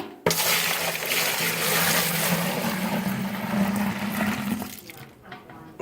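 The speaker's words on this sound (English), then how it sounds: "Go ahead and pour it in." Homebrew IPA wort poured from a kettle into a fermenter, a loud continuous splashing gush for about five seconds that tapers off and stops abruptly.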